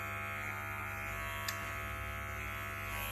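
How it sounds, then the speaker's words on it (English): Electric clippers buzz steadily and close as hair is shaved around a wound on a dog's leg, a constant hum with one brief tick midway. "I'm going to take a bit more hair off, just shaving away from the wound so as not to get more hair into it"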